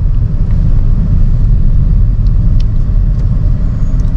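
A Toyota Yaris GR Sport CVT from 2021 with its 1500 cc 2NR FE engine drives along, heard from inside as a loud, steady low rumble of engine and road noise that never lets up.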